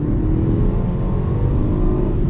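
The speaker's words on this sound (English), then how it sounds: "Nice acceleration from that inline four turbocharged 2-liter engine" A BMW X1 with a turbocharged 2-liter inline-four engine accelerates hard, a loud, steady, dense engine roar with road noise, heard from inside and without talk.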